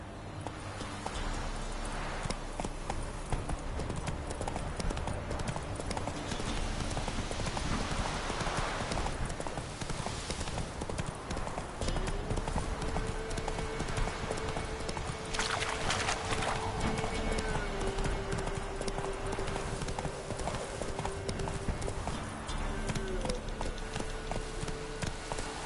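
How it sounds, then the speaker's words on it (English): Hooves of a horse in The Witcher 3 video game clip-clop steadily and continuously at a running pace, close and prominent throughout, with game ambience and faint music beneath. "Run, Roach"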